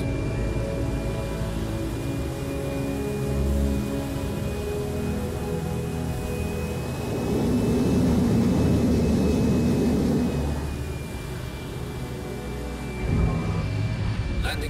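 Spacecraft lifting off in Squadron 42 (Star Citizen), a steady engine hum with a high whine that swells into a louder rumbling thrust midway, then eases off before a final surge.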